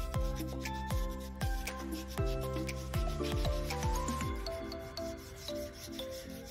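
Cloth rubbing shellac into a wooden bed frame gives a continuous run of squeaky, rasping strokes with a rising and falling squeal, close and fairly loud, with no voices.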